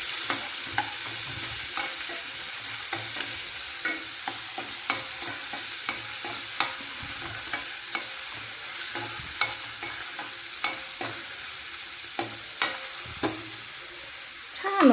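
Onion sizzles steadily in hot oil in a home kitchen while cooking a cauliflower vegetable dish, with repeated sharp clicks and scrapes of a utensil stirring throughout, close and continuous without speech.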